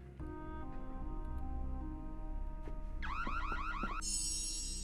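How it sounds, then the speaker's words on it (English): An electronic alarm in the Nancy Drew: Secrets Can Kill video game sounds alone. A steady tone gives way to rapid warbling sweeps, then a shrill, pulsing high beep, moderately loud. "Why is there an alarm going off?"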